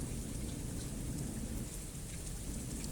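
Steady, dense rain pours down in a forest as part of an audio drama, a constant close hiss of drops with no pauses and no voices.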